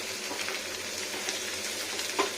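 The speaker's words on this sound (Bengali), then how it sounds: "আর মশলাটা ভালো করে ভাজা যাক" Spice paste for a country chicken curry with cauliflower and potato fries in a pan, giving a steady, close sizzle with faint crackles and no talking.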